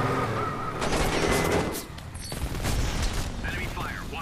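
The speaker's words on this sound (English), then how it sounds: "Enemy fire, watch out." Enemy gunfire in Homefront multiplayer on PS3: a sustained burst of rapid shots and mechanical clatter, followed by more scattered fire, with a player talking over it.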